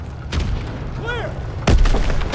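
Cannon fire in the D-Day battle of Call of Duty WW2 lands as a loud, deep boom near the end, following a brief whistling streak and earlier gunfire thuds amid dense battlefield noise.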